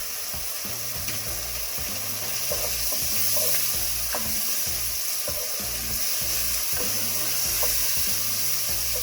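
Mushrooms added to a pan with spring onions fry in a steady, close sizzle, with soft rhythmic stirring sounds underneath.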